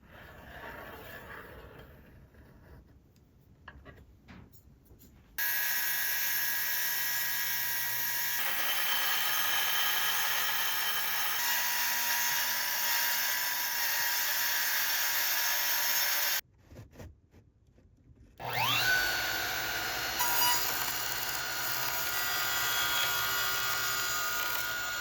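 A power tool cutting wooden boards for a DIY kei van camper build, a loud sustained whine running for about ten seconds, a short pause, then another shorter burst of cutting.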